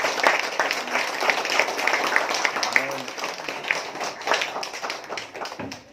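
A church congregation clapping together in a dense, continuous patter of hands, with a voice speaking over it throughout.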